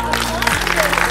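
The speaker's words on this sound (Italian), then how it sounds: "Applauso!" Audience applause and crowd noise at an outdoor Miss Venice Beach 2020 beauty pageant stage event in Rosolina Mare, a steady wash of clapping over a low hum, with a voice speaking over it.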